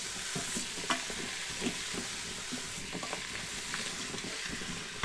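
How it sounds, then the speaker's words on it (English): Pork browning in a frying pan, a steady close sizzle and hiss with occasional scrapes and stirs of the meat, continuous and fairly quiet with no talking. "Get all that browned up, pork's done,"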